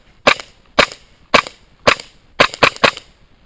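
A Sig Sauer P226 X-Five CO2 blowback airsoft pistol by KJ Works fires six sharp, close shots, four evenly spaced and a final quick pair, each with a snappy slide clack and no talking.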